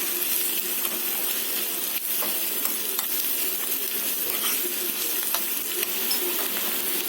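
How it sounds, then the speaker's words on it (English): Ingredients for moong dal khichdi sautéing in a pan, a dense, even sizzle with faint clicks of stirring throughout, close and steady with no voices. "Just saute this till it is brown in color."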